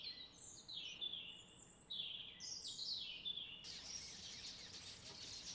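A cardinal sings a series of bright, clear whistled phrases, repeating and slurring, moderately near against a faint background hiss.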